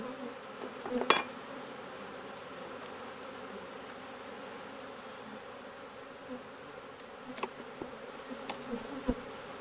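Agitated honeybees hum around an open hive during an inspection, a faint continuous buzz with occasional louder bees zipping close past, plus a few brief knocks and clicks, no talking.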